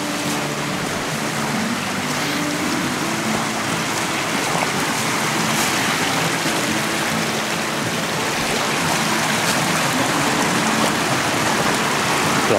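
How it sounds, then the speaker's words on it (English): A small mountain stream flowing over sandstone and sand near Shartlesville, Pennsylvania, gives a steady, dense wash of rushing water that stays even and close throughout, with no voices. "come down another one of these really neat little mountain streams"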